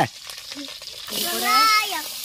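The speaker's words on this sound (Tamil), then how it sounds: "கடுகு வந்து நல்லா வெடிச்சிருச்சு சத்தம் நல்லா வருது" Mustard seeds pop and crackle in hot oil with a busy sizzle, while a voice talks over the cooking.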